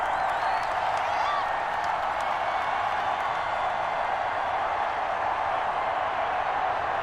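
Steady wash of crowd applause and cheering, a constant dense roar from start to finish with no pauses, like a stadium crowd heard through game audio, from Madden NFL 21 during a Patriots versus Washington Football Team exhibition game.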